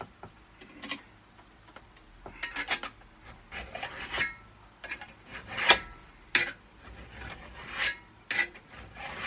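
Steel cabinet scraper edge being roughed up to raise a burr, heard as irregular raspy filing strokes, near and moderately loud, with sharp scraping bursts spaced unevenly and no talk.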